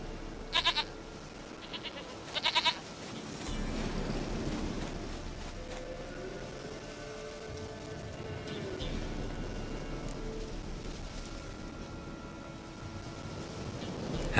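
Goat in the Witcher 3 video game giving a few short, sharp bleats early on, followed by a steady rumble like rain and thunder in the game soundscape.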